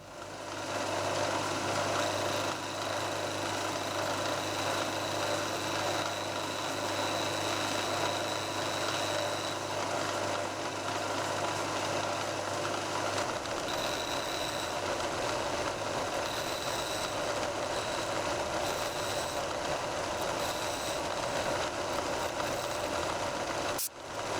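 Machining of a model aircraft engine mount in a metal workshop: a steady machine whir and hum holds throughout, with a low tone in the first half that drops away partway through, and no talk.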